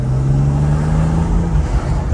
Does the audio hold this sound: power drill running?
no